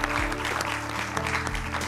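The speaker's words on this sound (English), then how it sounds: "please join me in a round of applause" Audience applause at a televised charity event welcoming two women onstage, a steady dense wash of clapping throughout with a low sustained hum or music beneath.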